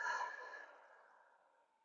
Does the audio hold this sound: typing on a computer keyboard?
no